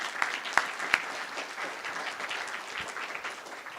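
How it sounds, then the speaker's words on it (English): Brief, fairly quiet applause from a conference audience thanking volunteers, scattered clapping with a few sharper claps near the start, fading into a looser patter. "A quick applause for them."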